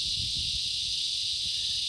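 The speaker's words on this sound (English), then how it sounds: "I think it's the cicadas" Cicadas in rural Manatee keep up a loud, continuous high-pitched buzz, with faint low rumbles and shuffling underneath.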